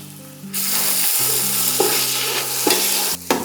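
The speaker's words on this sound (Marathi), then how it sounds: "चांगलं गरम झालं की हा सगळा कांदा आपल्याला तेलामध्ये परतवून घ्यायचा आहे." Chopped onion and capsicum sizzle in hot oil for pav bhaji, a loud steady frying hiss broken by a few scraping stirs of the spoon, close up and with no voices.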